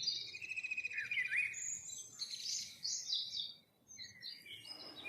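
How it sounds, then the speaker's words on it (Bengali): Several birds chirp and twitter in short, bright bursts, sometimes overlapping and sometimes pausing briefly, fairly clear against a quiet background with no voices. "পাখির কিচিরমিচির ছাড়া তো কিছুই শোনা যাচ্ছে না"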